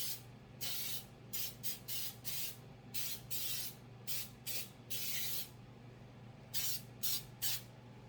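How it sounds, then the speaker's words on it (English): Repeated short bursts of baking spray containing oil and flour coating the inside of a bundt pan for a pumpkin bundt cake, each hissing blast separated by brief pauses, close and fairly loud. "baking spray, so it has like an oil and a flour already in it"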